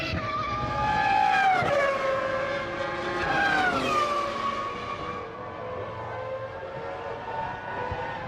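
A Jordan Mugen Honda Formula 1 car races at Silverstone in 2000, its high-revving engine screaming loudly past with rising and falling pitch sweeps as it approaches and recedes, the whine continuing steadily throughout.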